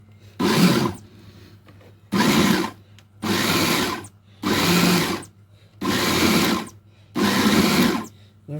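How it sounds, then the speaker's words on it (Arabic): A blender pulses molokhia greens with garlic in six short, even bursts of loud whirring, each about a second long, separated by near-silent pauses. "حتة توم، وهنضرب بقى ضرب متقطع."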